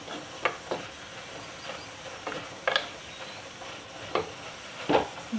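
Chopped onion and garlic sizzle in hot oil while being stirred for a spinach tempering, close sharp scraping bursts repeating every second or so over a steady frying hiss.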